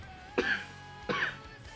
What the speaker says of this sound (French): Je vous prie de m'excuser de tousser